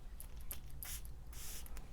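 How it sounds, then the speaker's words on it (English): A BDK Parfums Gris Charnel pressurized perfume atomizer gives several short, soft hissing sprays close by, with a longer burst near the end, over quiet room noise. "Your atomizer will spray like so."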